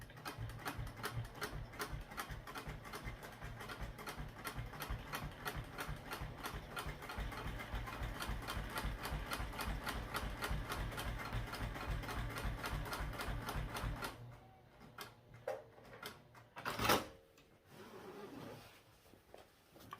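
A sewing machine top-stitches a thick foam backpack panel, running in a fast, even mechanical rattle for about fourteen seconds before stopping. A few quieter handling clicks and a thump follow.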